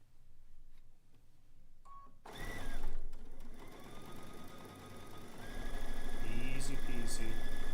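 A sewing machine stitches straight over fine pins while piecing a zig zag quilt, its low motor hum and rapid needle clatter building steadily and staying fairly quiet and close.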